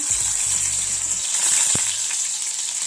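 Chopped ginger drops into hot oil in a kadai, giving a close, steady frying hiss with a brief splash and clatter near the start while the sizzle carries on alone.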